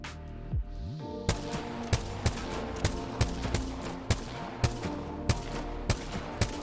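Rapid automatic gunfire from an Apex Legends aim-challenge round, a steady stream of sharp repeated shots with brief pauses, loud and close with no talking.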